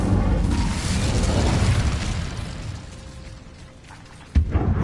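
An Incendio fire spell effect: a loud, rushing burst of flame that roars and gradually fades, followed by a sharp pop near the end.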